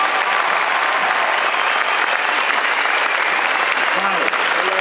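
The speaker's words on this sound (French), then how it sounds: "on peut les applaudir aussi." Audience applauding an orchestra at a comedy festival show in Toulouse's Zénith arena, a large crowd's continuous, loud, even applause sustained throughout with a faint voice beneath.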